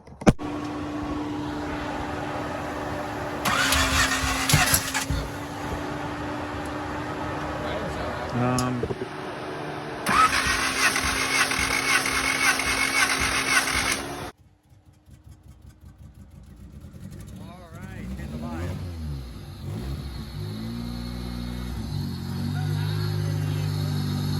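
A car comes back to life after electrical trouble with a suspected burnt-out ECU. Engine and electrical whirs rise and fall, the noise briefly drops away, and then the engine settles into a running tone.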